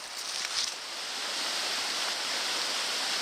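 A river and a minor tributary in the Canadian Rockies flow with a steady, full-bodied rushing wash. The sound is close and continuous, with no voices.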